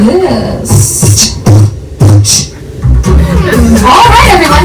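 A voice imitates a steam train's chugging with a rhythmic series of sharp, breathy chuffs, close and fairly loud, trailing off into chuckling and light chatter.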